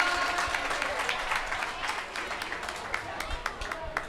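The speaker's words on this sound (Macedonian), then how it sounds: "Ајде еден аплауз за Марко." Audience applauding a talent show contestant, with dense, steady clapping that holds at an even level throughout, scattered louder claps standing out near the front.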